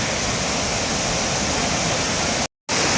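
Shifen Waterfall in Taiwan roaring as a loud, dense, steady rush of falling water, with one brief dropout near the end.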